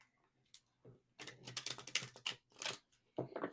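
Tarot cards being shuffled in quick, crisp riffling bursts, close and fairly quiet, with short pauses between the flurries of papery flicks.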